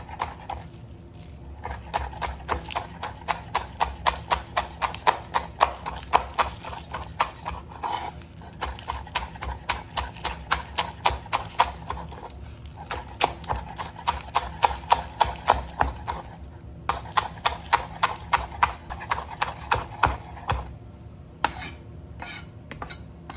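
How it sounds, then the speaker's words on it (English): A knife chops green onions on a cutting board for shrimp pad thai, with fast, steady knocks in long runs and brief pauses between them. "I'm just going to go ahead and cut up my green onion."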